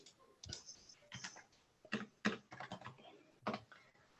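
Quiet, steady typing on a computer keyboard, with irregular clicks and clattering key strokes forming bursts and brief pauses, heard alone without talk.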